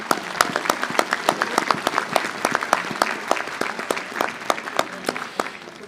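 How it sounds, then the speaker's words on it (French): A modest audience at a mayor's New Year ceremony claps for the prefect, distinct individual hand claps in a steady ragged rhythm, close and clear, tapering slightly at the end. "On peut l'applaudir."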